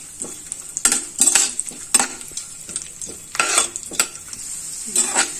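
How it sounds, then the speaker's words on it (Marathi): Cloves, cinnamon, cardamom and dry fruits including cashews sautéing in ghee, with repeated sharp metallic scrapes and clinks of a spoon against the pan over a soft sizzle, close and irregular, no voices. "हे जे ड्रायफ्रुट्स आहेत ते घालूया आणि ते पण व्यवस्थित तेलामध्ये तुपामध्ये परतवून घेऊया।"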